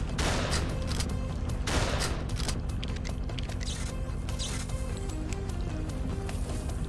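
Shotgun blasts fired in the Knock Harder video game, several sharp reports over a dense, continuous mix of game music and ambience.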